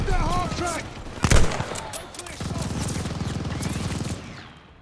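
Rapid automatic gunfire from Call of Duty Vanguard rattles in steady bursts, with a loud blast near the middle and voices talking over parts of the sequence.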